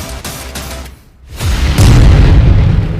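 A blast in news footage of a Hezbollah drone attack on Israeli troops: a heavy, sustained low rumble swells after a brief lull, booming loudly and filling the clip with roaring, crackling energy.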